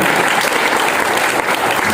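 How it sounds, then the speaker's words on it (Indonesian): Dense, loud applause from an audience at a business talk, a steady wash of clapping lasting about two seconds with no voices over it. "mari kita tepuk tangan dulu."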